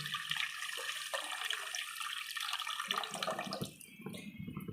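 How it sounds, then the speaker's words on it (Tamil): Tamarind water poured into curry in a home kitchen, a steady splashing liquid pour running close up for a few seconds, tapering off near the end. "அந்த புளியை ஊற்றுவோம்."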